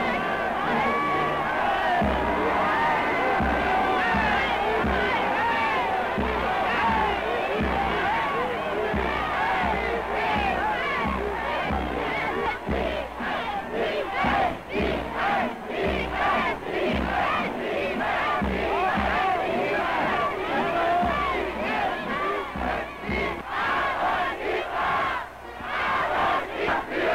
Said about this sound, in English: Here the same crowds that only yesterday hailed Schuschnigg's promise of continued liberty, today cheer Hitler.